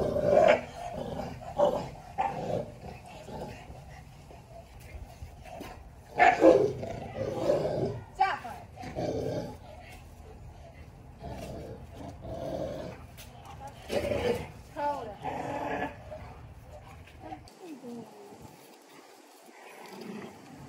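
A Tibetan Mastiff meeting a pack of eleven household dogs, with deep growls, roaring snarls and scattered barks rising and falling over about twenty seconds, close by, with people talking intermittently beneath.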